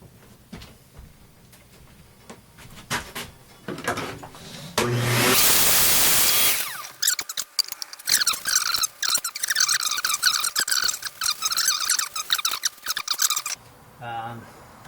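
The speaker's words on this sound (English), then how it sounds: "I'm going to blow out the moisture that's in between these crevices as well." Compressed air blasts moisture out of the crevices of a jagged pepper tree wood bowl on a lathe, a loud broadband hiss lasting under two seconds, followed by whirring, clattering machine noise and brief talk.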